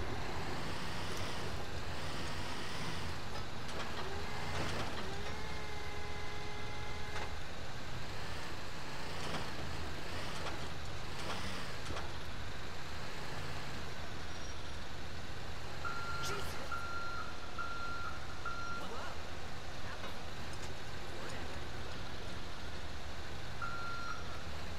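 Truck in Grand Theft Auto V driving and reversing, a low engine rumble throughout with repeated evenly spaced reversing beeps, occasional horn-like tones and a voice talking over it.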